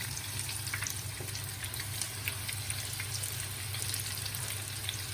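Tomato fritters fry in a pan, a Mykonos favourite, giving a steady, moderately loud sizzle and bubbling hiss that runs unbroken throughout with no voices.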